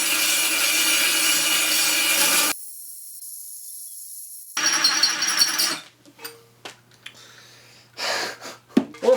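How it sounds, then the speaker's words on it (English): A cheap 5/16 drill bit drilling slowly, heard as a gritty, rasping grind that runs steadily, cuts out, then resumes in uneven bursts with pauses between them. "I'm gonna start slow, because I guess you can never really drill too slow."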